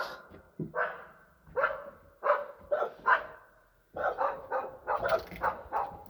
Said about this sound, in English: They were quiet when I was coming in, but now that I'm back here, they're barking.